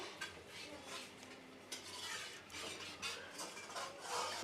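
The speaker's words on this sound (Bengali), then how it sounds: "চাল দিয়ে কষিয়ে নিচ্ছে দেখেন" Rice is stirred and fried in a pot for biryani, with faint repeated scraping and rustling strokes of a spoon against the pot, soft and close, without talk.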